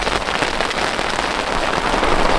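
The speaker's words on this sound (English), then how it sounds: "Just hanging out, enjoying the thunderstorm. It's a lot of rain." Heavy thunderstorm rain at a campsite behind the Tetons, a dense, loud, continuous hiss and patter of downpour on covers and surfaces, with no voices.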